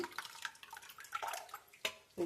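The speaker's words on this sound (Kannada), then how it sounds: "ಹುಣ್ಸೆಹಣ್ಣು ನೆನೆಸಿ ಇಟ್ಕೊಂಡಿದ್ದೆ ಆ ನೀರು ಹಾಕ್ಕೊತಾ ಇದ್ದೀನಿ" Quiet liquid sounds as soaked tamarind water is poured for pani puri in small splashes and drips, soft and intermittent.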